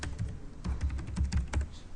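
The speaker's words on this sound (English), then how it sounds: "if I can type correctly" Keys clatter on a computer keyboard while a folder is named in a VirtualBox lab setup, a close run of uneven, quick taps with short pauses between bursts.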